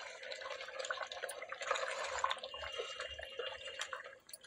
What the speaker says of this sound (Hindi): देखिए 1/2 गिलास के करीब मैंने पानी इसमें डाली हूँ।